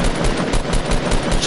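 Dense, continuous automatic gunfire from a Fortnite Battle Royale match, rapid bursts overlapping at close range and loud throughout.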